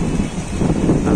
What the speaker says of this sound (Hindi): हवा बहुत ही शानदार चल रहा है